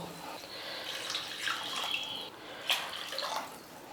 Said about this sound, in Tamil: இதில் 3 டம்ளர் 3 ஆழாக்கு தண்ணி சேர்த்துக்கிறேன்.